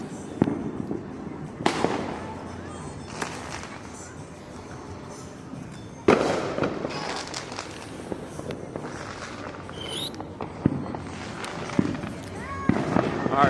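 A Fourth of July fireworks show in Allentown booms and crackles at a distance, with sharp bursts landing every few seconds among crowd noise, footsteps and people talking nearby.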